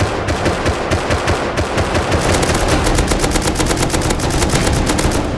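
Loud, continuous automatic gunfire from an M249 in the survival game Rust, a rapid rhythmic stream of shots sustained throughout with no talk.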